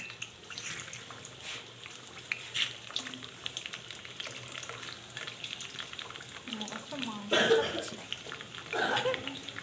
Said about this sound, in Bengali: আর আলুগুলো ও ভেজে নিচ্ছে।